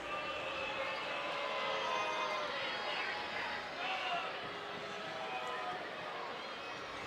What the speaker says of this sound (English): Crowd not liking that one.